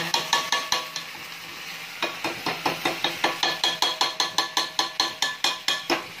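A pan of sautéed garlic and onion with sardines going in, dominated by a rapid regular run of metallic clinks and scrapes of a utensil working the pan over a light sizzle, close and without talk.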